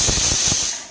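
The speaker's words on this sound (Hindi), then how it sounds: "और देखा आपने सीटी आ चुका है" A Hawkins Miss Mary Handi MMH50 5-litre pressure cooker lets off steam through its whistle: a loud, steady, close hiss with faint low sputters underneath, tapering off at the end.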